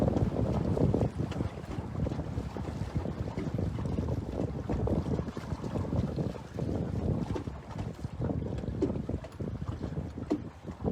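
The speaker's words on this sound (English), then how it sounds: "And she's doing great in this wind here today." Gusty wind roars across the microphone on a small sailboat under way, a continuous low buffeting with uneven surges and occasional water slaps, loud and close, no talking.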